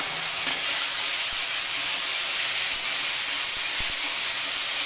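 Onion paste fries in hot oil with a loud, steady, bright sizzle and hiss that stays even from start to finish, with a few faint clicks.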